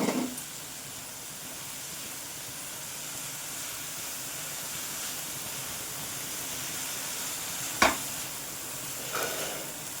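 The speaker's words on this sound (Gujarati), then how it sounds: "હવે આપણે મેથી અને જે મસાલો સોટે કર્યો હતો તે બધું સરસ મિક્સ કરી લઈશું" Fenugreek leaves with garlic and sautéed spices sizzle steadily in a hot pan, a close continuous frying hiss broken by a sharp clack of a spoon against the pan as the mixture is stirred.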